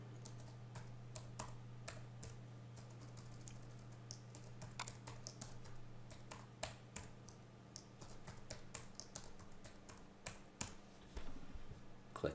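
Someone types a password on a computer keyboard while setting up a Windows Server 2008 domain controller: quiet, irregular clusters of key taps over a low steady hum, with no voices.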